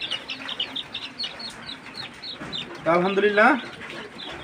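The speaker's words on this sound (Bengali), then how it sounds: "এই সিল্কি মুরগির বাচ্চাগুলো আমার বিক্রি হয়ে গেছে।" Silkie chicken chicks peep and cluck in a series of short high calls through the stretch, with someone speaking briefly near the end over a louder call.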